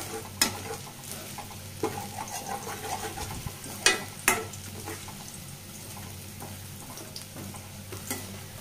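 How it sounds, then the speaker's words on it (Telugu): Ginger and shallots fry in a little oil over low heat, giving a steady soft sizzle with occasional sharp crackles and stirring scrapes, close and alone without talk. "లైట్ కొంచెం ఆయిల్ వేసుకో, అల్లం చిన్నులపాయలు వేసుకొని వేగనివ్వాలండి ఒక 2 నిమిషాల పాటు."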